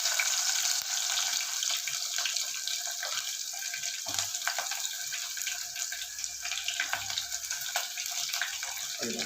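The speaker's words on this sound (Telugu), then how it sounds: "అదిగోండి అట్లా వేగుతుంది కదా, అలా వేగుతున్నప్పుడు తెలిసిందే కదా ఉల్లిపాయలు పచ్చిమిరపకాయలు అండి" Onions and green chillies sizzle in hot oil in a pan while cooking a mutton dish, giving a constant, bright frying hiss with small crackles, close and steady throughout.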